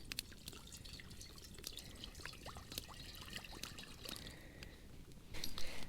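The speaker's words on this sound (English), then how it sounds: "So we're gonna boil up some water." Water trickles and drips in a quiet outdoor camp setting as it is poured into a pot to boil for a dehydrated Mountain House lasagna meal at a mountain lake; faint, steady pouring with small splashes, louder at the end.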